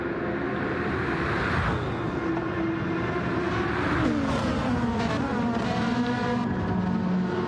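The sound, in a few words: Dodge Viper race car engine in a video game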